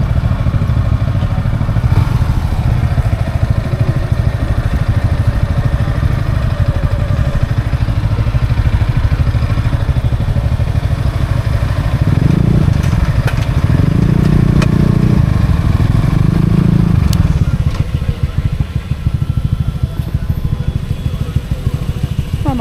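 Motorcycle engines idle and rumble steadily in a busy parking area, with a few revving swells partway through and scattered clatter; continuous and fairly loud throughout.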